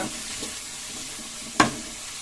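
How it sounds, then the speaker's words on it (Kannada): Chopped onions frying in oil until red for aloo kachori filling, a steady soft sizzle with a couple of faint stirs and one sharp clack of a utensil against the pan near the end. "ಈರುಳ್ಳಿ ಕೆಂಪು ಕಲರ್ಗೆ ಫ್ರೈ ಆಗೋ ಗಂಟ ನೀಟಾಗಿ ಫ್ರೈ ಮಾಡ್ಕೊಳ್ಳೋಣ"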